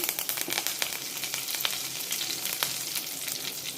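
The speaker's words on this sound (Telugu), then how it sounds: "ఇప్పుడు ఆయిల్ కాగింది ఆవాలు జీలకర్ర వేసేసుకుందాం కొద్దిగా కరివేపాకు" Busy, crackling sizzle as mustard seeds, cumin and curry leaves hit hot oil in a pan, with rapid spitting pops throughout and no voices.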